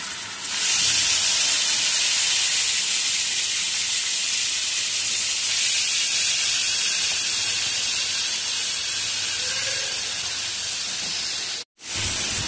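Half a kilo of washed chicken hits a pan of oil with fried turmeric, setting off a loud, steady sizzling hiss that holds for about eleven seconds before cutting off abruptly.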